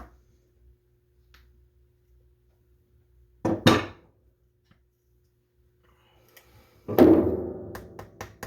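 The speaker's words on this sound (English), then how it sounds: "you may need to use a hammer until they're flush or close to" Two short bursts of a hammer tapping 3D-printed parts of a bolt-action Nerf blaster flush, each a quick cluster of sharp knocks, separated by seconds of near silence.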